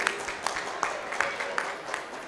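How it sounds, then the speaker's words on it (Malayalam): An audience at a community organisation's felicitation ceremony claps steadily for a few seconds, a dense spread-out patter of applause from a moderately sized crowd, fairly distant and even throughout. "പ്ലീസ് ഒരു കൈയടി"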